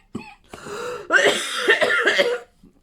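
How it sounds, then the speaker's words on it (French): Several harsh coughs in a row from a person, close and fairly loud, with short gaps between bursts and no talk. "À chaque fois que je ris, ça me fait tousser."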